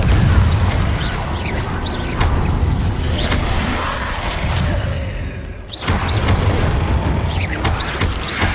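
Fiery Confringo spell blasts from Hogwarts Legacy combat boom repeatedly with heavy low-end thuds and whooshing bursts, loud and near, layered over continuous battle rumble with a brief dip before the blasts resume.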